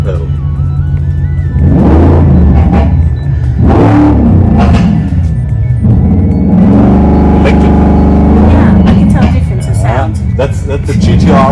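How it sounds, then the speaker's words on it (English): A Mercedes-AMG GT R engine revs in loud repeated surges, each rising and falling in pitch, with people talking over the noise from close by. "That's the GTR sound, the original one. It's not the made synthetic sound. It's the original GTR sound."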